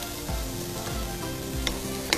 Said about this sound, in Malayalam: 4 പച്ചമുളക് ചെറുതായിട്ട് നുറുക്കിയത്. ഇത് നന്നായി വഴറ്റുക.